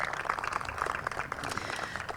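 Applause from a crowd at an outdoor groundbreaking ceremony for a behavioral health hospital expansion, steady scattered clapping at moderate distance throughout.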